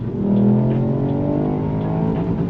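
Engine of a sporty 200 hp SUV with a 6005 rpm redline revving hard and held near its rev limiter, a loud steady drone of rising harmonics with no voices over it.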